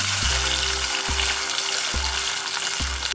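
A cornstarch mixture frying in a little hot oil with cumin seeds for chicken chowmein chatpate gives a loud, steady close sizzle, with a low periodic hum and a faint clink under it and no talking.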